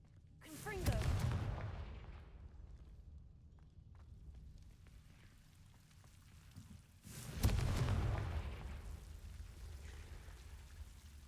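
Two separate Confringo blasting spells go off in Hogwarts Legacy, each a sudden explosive burst that decays into a fading rumble. The second blast comes several seconds after the first.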